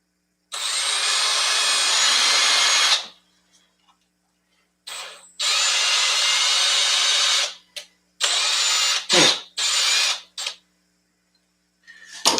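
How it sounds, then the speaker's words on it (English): A power driver runs screws back into the body of a Kraton 4S RC car, several loud close whirring bursts of a few seconds each with short pauses and brief ratcheting stops. "Now I just got to get the screws back in this."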